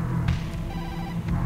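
A phone rings in the dark horror game Tokyo Dark, a steady electronic ringtone with soft repeated pulses, close and moderately loud.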